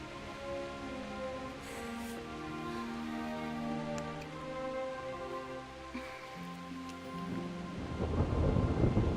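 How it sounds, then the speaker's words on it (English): Thunderstorm with rain, a long low rolling rumble of thunder building and fading, then heavier rain hissing up loudly near the end, with no voices. "Not afraid of thunderstorms, are you?"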